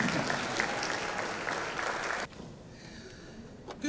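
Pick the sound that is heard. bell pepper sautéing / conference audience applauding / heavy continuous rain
conference audience applauding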